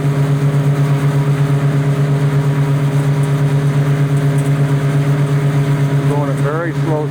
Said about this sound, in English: It's the slowest the tractor will go, running at about 1600 RPM, so that it doesn't clog itself up.